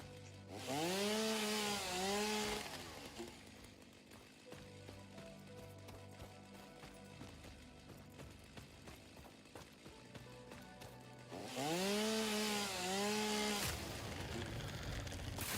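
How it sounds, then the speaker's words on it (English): A chainsaw in the video game Satisfactory, echoing as if in a hallway, revs loudly in two rising bursts, separated by a stretch of quieter idling and faint background noise. "It sounds like I got the chainsaw in a hallway."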